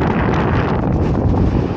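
Strong wind buffeting a climber on a limestone sport route at Paklenica, a loud continuous roar of gusts battering the microphone at close range, with no voices heard.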